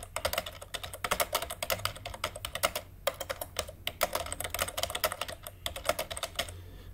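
Rapid typing on a computer keyboard during a web development session, a steady close patter of key clicks with brief pauses, no voices.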